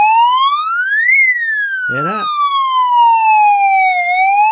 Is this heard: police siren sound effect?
yes